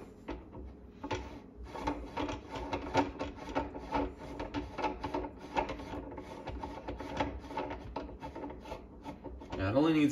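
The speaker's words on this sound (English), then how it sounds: "Then I have a spring for this, which is gonna fit underneath here. Just gonna thread this down." A spring is threaded down onto a homemade cheese press for feta, giving a run of rapid scraping, ratcheting rasps in close, irregular bursts with a louder clunk near the end.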